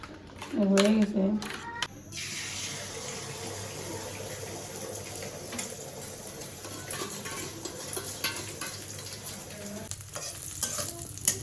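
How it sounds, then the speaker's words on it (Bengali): An egg with onion and green chili fries in a pan, giving a soft, steady sizzle that runs throughout, opened by a few sharp clatters and a brief voice at the start. "এক ডিম ভাজি করবো তো সকালবেলার জন্য"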